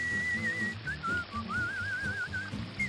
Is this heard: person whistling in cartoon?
yes